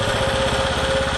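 A small generator engine running on HHO fuel drones steadily and loudly at close range, with a continuous buzzing hum and a constant rhythmic pulse throughout.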